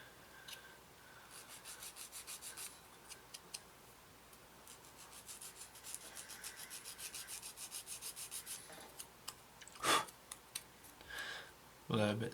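A sanding stick rubs rhythmically across a plastic part from an Eduard 1/32 Messerschmitt Bf 109E-3 model kit, close and quiet rasping strokes in a steady back-and-forth series, with a puff of breath blowing dust at the end.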